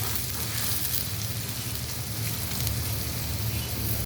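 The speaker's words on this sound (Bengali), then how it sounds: "এবার আমি সেম তেলে পেঁয়াজ কুচি দিয়ে হালকা করে ভেজে নেব।" Chopped onions fry lightly in the same oil just used for frying rohu fish, giving a steady, close, loud sizzle that crackles evenly throughout with no talking.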